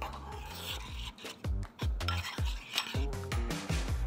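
Close scraping and rubbing of a utensil against a bowl, repeated strokes in a quick uneven rhythm as thick miso paste is stirred with water.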